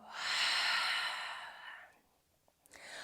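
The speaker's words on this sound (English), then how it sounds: "Take a breath in and let the breath go." A long, soft, breathy exhale during a morning yoga flow, close and steady for nearly two seconds before fading, followed by a quieter intake of breath.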